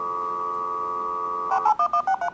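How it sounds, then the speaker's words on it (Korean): Old dial-up telephone modem: a steady pure tone holds for about a second and a half, then gives way to a rapid series of short, loud, chirping tone bursts, heard alone. "이거는 과거 전화 모뎀."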